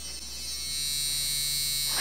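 A Finishing Touch facial hair remover buzzes with a steady, thin electric whine that holds constant from the moment it switches on, close and alone with no talk.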